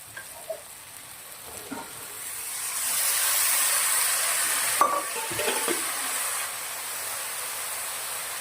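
Chickpeas tipped into a pan of sizzling turmeric masala, a rising hiss of frying that swells and holds loud, with a few scrapes and clinks of a spoon stirring.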